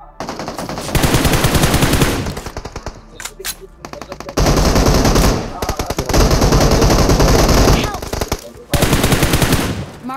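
Loud automatic gunfire from a BGMI/PUBG battle royale firefight comes in long rapid bursts separated by short gaps and a few single shots, close and dominant with no speech over it.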